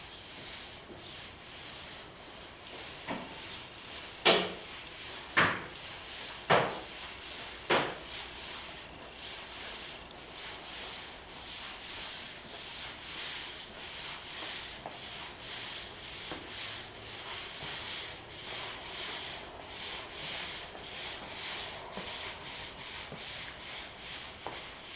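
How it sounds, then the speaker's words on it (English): A broom sweeps across a drying, freshly sealed shop floor in steady back-and-forth rubbing strokes, with a few sharper scrapes early on, moderately close and with no speech. "Basically, you just fly over it real quick with a broom"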